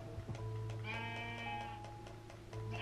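A Minecraft sheep bleats once, a clear wavering baa of about a second, over faint background game tones.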